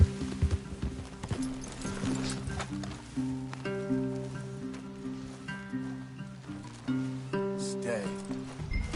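Horses' hooves clop in Red Dead Redemption 2, an irregular near clatter mixed with a game's background music and ambient rustle, with characters talking over it.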